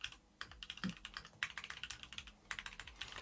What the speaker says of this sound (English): I'm just typing a message to Susan right now.